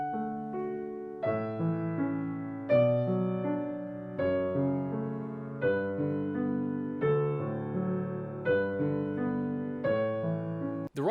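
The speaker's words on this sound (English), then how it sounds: "With a pedal, it sounds like this" Piano chords played with the right sustain pedal held, so each chord rings on and blends into the next in a smooth, continuous wash, steady and close with no voices.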